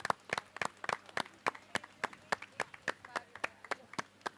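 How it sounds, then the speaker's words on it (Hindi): An audience claps for a show's director as he is welcomed on stage at a TV press conference, the applause sparse, quick and fairly faint, sounding like a small group of hands rather than a full crowd. "उन्हें तो ज़ोरदार तालियों के साथ स्वागत कीजिए"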